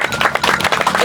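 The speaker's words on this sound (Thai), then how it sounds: "ปรบมือ" A brief burst of audience clapping at a Thai volunteer rescue event, a dense patter of hands at close range without talk.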